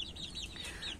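Young chicks in a cage let out faint, high wavering peeps and soft clucks, steady and unbroken over a quiet, noisy background.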